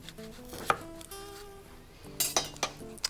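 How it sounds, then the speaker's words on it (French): Garlic being chopped with a knife on a cutting board for stuffed tomatoes, a few sharp close knife taps with some light clinks in a quiet kitchen. "J'enlève le germe pour éviter l'amertume et je le hache."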